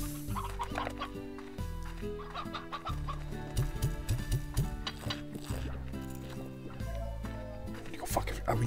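A rooster clucks in the video game Slime Rancher, short fowl clucks mixed into busy game music and sound effects, moderately loud throughout, with a player talking over it.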